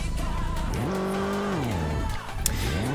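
A racing car engine in the VRChat game revs loudly and continuously, its pitch climbing and falling through gear changes on the Hiroshima Expressway time-attack run, with music underneath.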